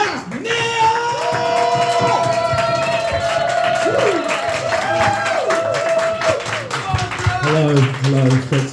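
A comedy club crowd stamps, claps and cheers for an act coming on stage, loud continuous clapping with whoops and shouts, while a voice talks over the noise.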